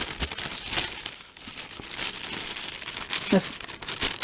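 A plasticky paper takeaway serviette from a military ration pack crinkles and rustles close up, continuous crackling handling with several sharper crumpling bursts throughout.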